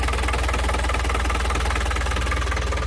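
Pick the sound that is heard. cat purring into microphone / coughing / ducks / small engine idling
small engine idling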